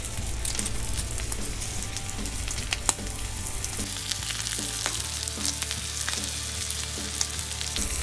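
A dry aged ribeye sears on a Blackstone flat-top griddle, giving a steady, close crackling sizzle that holds at an even level throughout, with no voices.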